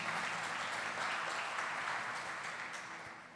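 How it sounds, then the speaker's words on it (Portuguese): A church congregation applauding during a sermon, a dense wash of clapping that holds steady then eases slightly toward the end, with no voices over it. "Pode aplaudir a Jesus"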